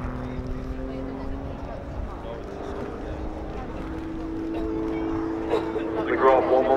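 A Grob Tutor light training aircraft with a 180 horsepower Lycoming piston engine flies a display at an airshow, its steady propeller drone heard at a distance alongside a nearby voice talking, with a louder rasping swell near the end.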